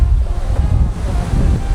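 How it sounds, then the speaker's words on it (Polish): Huge ocean waves roll and crash at Playa de las Americas, Tenerife, a loud continuous surf roar mixed with heavy wind buffeting the microphone. "Nie wiem, co tu się dzieje, ale fale są przekozackie, olbrzymie."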